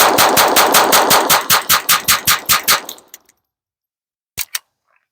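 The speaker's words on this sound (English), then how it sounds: "I'm going to dump these rounds real quick just so you can see how fast you can get this guy going." A Taurus TX22 Competition .22 pistol fires a rapid string of about a dozen close, sharp shots in an even rhythm, then stops, followed by two faint clinks.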